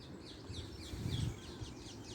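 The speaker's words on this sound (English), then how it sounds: "what are those birds singing away?" Birds sing in a park at Abbey Wood, a series of faint, repeated high chirps and short warbling phrases carried over a low outdoor rumble, distant and fairly soft throughout.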